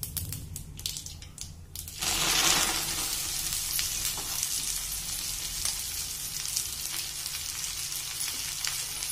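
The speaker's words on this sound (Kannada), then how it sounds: "To this heated oil add mustard seed, let it splutter." Mustard seeds spluttering in heated oil for gongura chutney, a dense steady sizzle of crackles and pops that jumps louder after a brief rustle and holds close and continuous with no talk.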